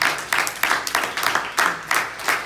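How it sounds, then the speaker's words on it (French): A church congregation claps together during a sermon on sin, giving a dense, rhythmic burst of applause with steady pulsing hand claps. "Acclame le Seigneur fortement si tu me suis"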